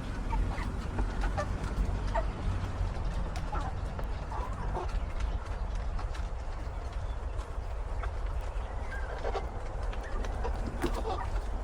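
Chickens cluck and call in short, scattered bursts over a steady low rumble of farmyard background noise, with no talking; a flock of about sixteen, including small white ones.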